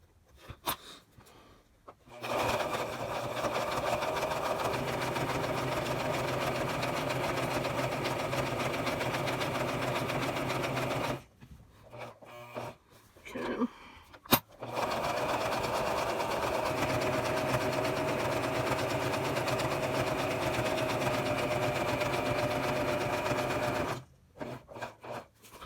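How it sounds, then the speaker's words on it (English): A sewing machine stitching reusable menstrual pads runs in two long, steady whirring stretches broken by short pauses, close and loud, with a brief click between runs. "Pull the sewing machine back in view here."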